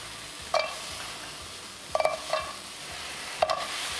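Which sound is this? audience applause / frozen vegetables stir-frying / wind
frozen vegetables stir-frying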